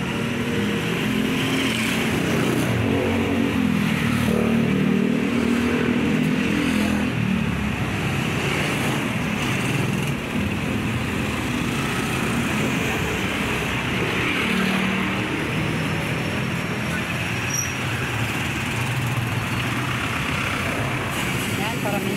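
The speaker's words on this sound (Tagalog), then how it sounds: "Parami ang sasakyan kasi meron ng papasok at pasundo" Steady road traffic of cars and trucks near a school at drop-off and pick-up time rumbles on continuously as vehicles pass close by, with a person talking over it at times.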